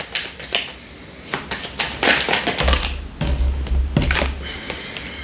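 Tarot cards are shuffled close up, with crisp flapping riffles and taps in uneven bursts over a low steady hum.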